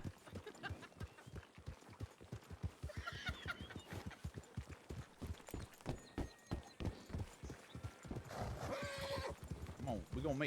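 Horses clop along in a steady, rhythmic beat of hooves, with loud whinnies rising over the procession while people talk nearby.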